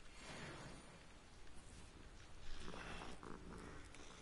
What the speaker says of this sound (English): I can hear a cat in the game and I can hear my cat in real life.